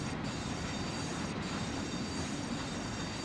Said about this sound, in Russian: Господи, с чего начинаются эти прогулки в метро